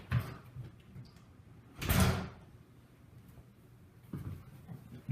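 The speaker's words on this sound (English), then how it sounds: "I got to let my dog go out the back door here" A back door opens to let a dog out, with a loud sliding rush in the middle and softer knocks and rattles before and after in a quiet room, no talking.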